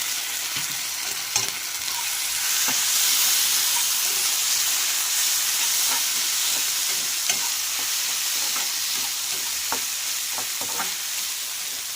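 Two spoonfuls of ginger garlic paste frying in oil in a pan for a fish curry, a steady close hiss broken by repeated light scrapes and taps of a spatula as it is stirred.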